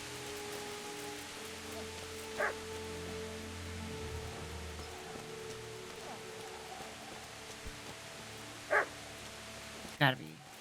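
A dog gives a few short, sharp barks at a distance amid steady rain-like background noise, with someone speaking quietly between them.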